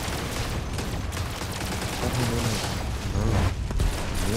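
Rapid pistol fire from the Destiny video game, a steady dense stream of gunshots and booms at even loudness, with no voices.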